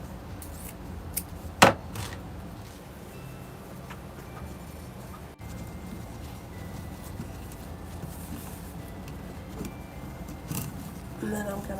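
Scissors snipping wreath bow ribbon flat for a scarecrow harvest wreath, one sharp close cut standing out above a continuous background of rustling and handling noise.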